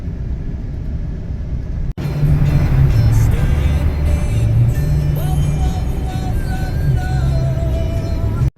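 A truck drives on snowy roads after a March blizzard, with a loud, steady low engine and road rumble filling the cab, overlaid by faint rattles and a wavering whine.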